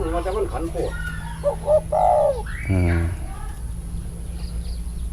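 A dove coos softly in the background while someone talks over it close by, with a few brief chirps in the distance.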